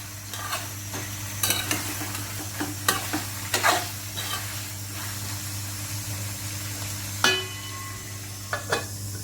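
Steady sizzling of ash gourd frying in a pan, with occasional stirring scrapes and clicks, close by and moderately loud, no voices.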